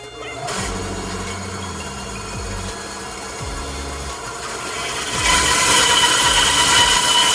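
A bandsaw whirs steadily while cutting wood for a longbow, the tone dipping and rising with each pass, then growing louder and harsher near the end.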